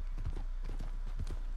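Horse hooves clip-clop at a steady walking rhythm in Red Dead Redemption, close and clear over low background ambience.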